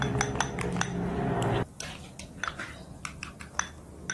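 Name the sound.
whisking eggs with tomato flesh and seeds in a bowl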